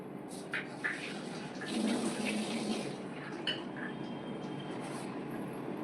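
Water pouring steadily into a pot for several seconds, a continuous splashing rush that swells briefly in the middle, with faint kitchen clatter.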